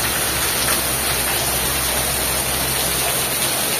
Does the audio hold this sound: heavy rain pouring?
yes